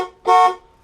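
An old car's horn, just working again after a steering wheel swap, gives one short, loud, close blast with a bright harmonic tone, preceded by a fainter brief note.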